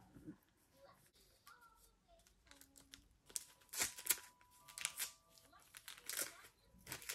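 Trading cards from a mystery box being handled and flipped over, giving soft quick flicks and card snaps in bursts, with people talking quietly among the shuffling.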